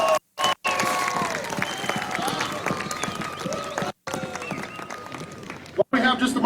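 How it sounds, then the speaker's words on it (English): A crowd claps steadily at an outdoor winter holiday event, a dense continuous patter of applause from many hands, broken by a few brief gaps. "give them a quick round of applause"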